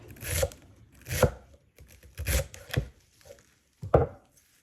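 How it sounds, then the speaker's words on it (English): A knife chops through celery stalks on a cutting board in a few uneven bursts of quick, close, crisp strikes, each cluster separated by short pauses. "And chop, chop, chop"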